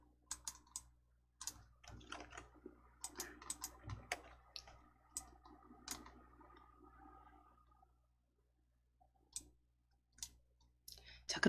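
Sharp mouse clicks on a computer during word-processor formatting in a Korean document-editing task, scattered irregular taps with quiet gaps, faint and close, with some keyboard-like clatter mixed in.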